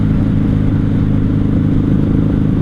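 1994 Honda Magna 750 VF750C motorcycle engine revving slightly high while riding in fifth gear: a loud, continuous low-pitched engine roar with wind rush, heard from the rider's position.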